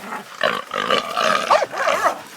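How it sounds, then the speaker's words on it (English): Hunting dogs bark and growl in a close, loud burst while bailing a wild boar on Oahu, Hawaii, with rough snarling yelps following one another over a couple of seconds. "Watch out the dogs, watch out the puppies."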